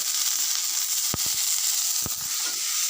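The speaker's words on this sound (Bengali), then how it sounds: "আলুটা ভেজে দিচ্ছি" Potatoes frying in a pan, a loud, steady close hiss of hot oil with a few brief knocks of utensil against the pan, no talk over it.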